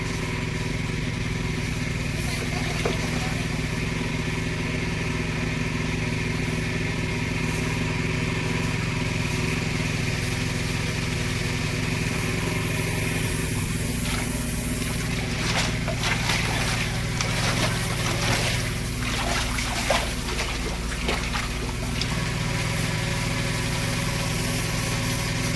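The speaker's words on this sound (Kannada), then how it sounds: "ಅರ್ಧ ಬೋರಿಂಗ್ ಗಾಡಿ ಬಂತು ನೋಡಿ." A borewell drilling rig truck's diesel engine drones steadily and loud throughout, with a low constant rumble and some rattling clatter building toward the end as it draws near.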